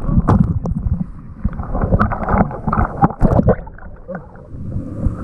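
A rider goes down the Toboggan Racers water slide at Blizzard Beach, a Disney water park, with loud rushing water and wind buffeting a close microphone and thumps along the run.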